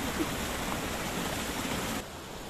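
River water in the Kumrat valley rushes in a steady broadband hiss, loud and close. The flow drops abruptly to a quieter level near the end.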